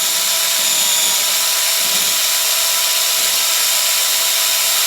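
A power polishing tool runs continuously on engine parts of a Spanish 110 motorcycle, a loud steady high whine with a broad hiss and no talking.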